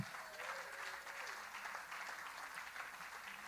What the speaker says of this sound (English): Everybody can now clap.